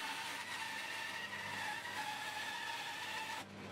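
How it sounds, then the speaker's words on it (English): Bandsaw cutting out a small wooden mouse shape hums and whines steadily and close for about three seconds, then the blade tone drops as the cut finishes. "now I'll cut out to those lines on the bandsaw"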